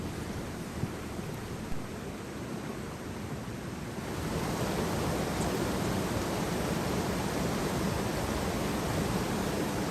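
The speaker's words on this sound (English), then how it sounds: "we found some beautiful sections of the river flowing along mossy boulders to enjoy" A river runs along mossy boulders on Dartmoor, giving a steady broadband rush of flowing water that swells louder partway through, with no voices.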